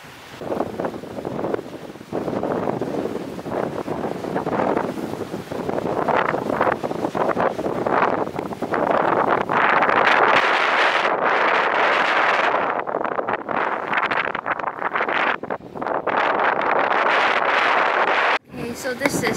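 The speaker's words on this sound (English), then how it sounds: "I'll trust the weather forecast that it's just windy and there is no rain." Strong coastal wind buffets the microphone on a clifftop walk near Henry Head and Cape Banks in Sydney, a loud continuous roar with gusty swells throughout.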